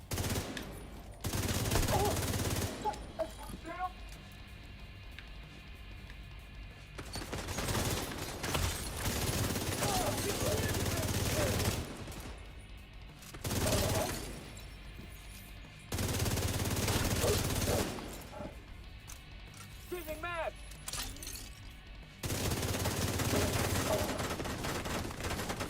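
Sustained automatic gunfire in the shooter The Division 2 arrives in long, loud bursts with short pauses between, mixed with mechanical clatter and occasional game voices.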